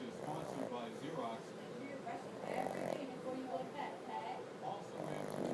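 A pug snores close up with its eyes open, a steady run of rasping, rhythmic snores while a person talks softly at times.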